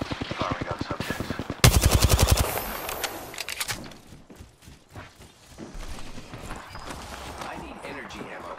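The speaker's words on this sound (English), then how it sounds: "Firing on subjects." Rapid automatic weapon fire in the Apex Legends video game, a dense burst of evenly spaced shots followed by scattered quieter game sounds, with in-game voice lines over it.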